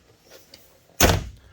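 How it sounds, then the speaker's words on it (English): A Spike upper door on a Honda Talon side-by-side, which opens backwards, shuts with one loud close thunk and a brief rattle after a few faint latch clicks, heard nearby with no talking. "And the door opens backwards."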